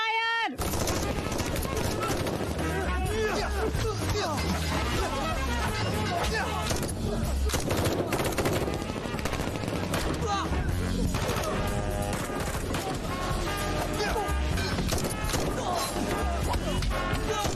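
Rapid gunfire and crashes of an action movie shootout rage continuously and loudly, mixed with shouted voices and a dense score.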